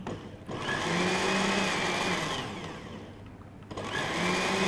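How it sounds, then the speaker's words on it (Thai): A blender whirs steadily while blending tomato juice with grains, pineapple and lime, loud and close, with a brief dip in motor pitch midway before it surges again. "แล้วก็ปั่นต่ออีกทีนึงค่ะ เมื่อกี้ละเอียดแล้วนะคะ อันนี้ปั่นต่ออีกหน่อย"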